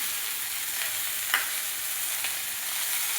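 Turmeric and salt are stirred into food frying in a pan, giving a steady close sizzle with a couple of faint spatula scrapes and no voices.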